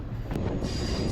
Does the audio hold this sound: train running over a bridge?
yes